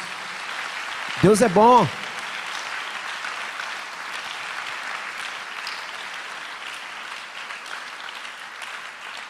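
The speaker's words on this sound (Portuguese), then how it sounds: "Pode aplaudir o Senhor." A church congregation claps and applauds praising God during a sermon, a broad steady wash of clapping that carries throughout, with a voice briefly speaking over it early on.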